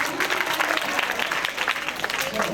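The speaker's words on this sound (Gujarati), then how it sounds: "આપણે જોરદાર તાળીઓથી વધાવીએ." Dense clapping from a gathered audience at a school prize and certificate ceremony, a continuous, even burst of many hands held at steady loudness throughout.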